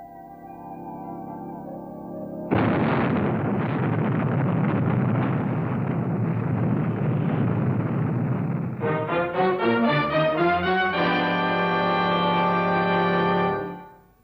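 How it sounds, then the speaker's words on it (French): A long, loud roaring blast from the 1962 TV series Fireball XL5 rumbles for several seconds after a tonal intro, then gives way to pulsing and sustained musical tones before cutting off sharply. "C'est la 7e explosion, Général Zéro."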